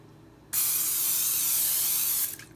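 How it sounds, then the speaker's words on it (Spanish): Cooking oil spray hisses from an aerosol can onto a gelatin mold for a strawberry gelatin, one steady close burst of about two seconds that cuts off sharply, with no talk. "Ahora le vamos a agregar spray a nuestro molde."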